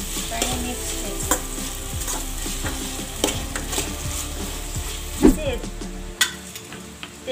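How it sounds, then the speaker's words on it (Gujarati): Tomatoes, onion and chillies frying in a pan for vagharela poha, with a steady sizzle under repeated spoon strokes scraping and tapping the pan, heard up close with a voice speaking over it. "હવે આપણે તેમાં ટમેટા એડ કરીશું થોડી વાર હલાવતા જઈશું જેથી કરીને ટમેટા ડુંગળી અને મરચાં બંને મિક્સ થઈ જાય"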